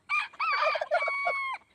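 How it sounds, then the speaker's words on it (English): A small Sebright bantam rooster crows loud and close in one full cock-a-doodle-doo, broken into several bright rising and falling phrases and ending on a long held note. "He's a little Seabright rooster that he would get beat up if he goes over there."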